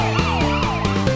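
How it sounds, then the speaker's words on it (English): Toy police car siren wailing loudly and continuously, its rising and falling electronic tones repeating in quick cycles with a steady underlying beat, alone with no talking. "Police car!"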